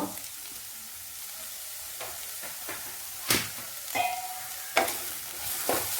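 Boiled chicken added to a pan with golden fried onions and vegetables sizzles steadily, with several sharp scraping stirs of a spatula breaking through the soft frying hiss.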